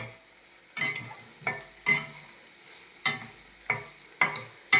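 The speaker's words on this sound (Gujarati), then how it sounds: "જો આ ડુંગળી નાખી આ રીતે પાછું મિક્સ કરી લેવાનું." Chopped onions frying in a pan while being stirred for palak paneer, a soft steady sizzle broken by about seven regular, distinct scraping strokes of a spoon against the pan.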